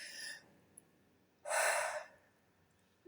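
A single long, breathy yawn, close and fairly loud, rising and fading over about half a second, with a softer breath before it and quiet room tone around it.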